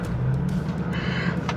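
A supercharged Ford Crown Victoria's engine drones steadily from inside the car as it shifts from first to second gear, with a low rumbling tone and a brief rise in whine.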